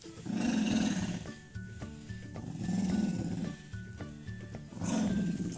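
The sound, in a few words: dog growling while a shirt is put on it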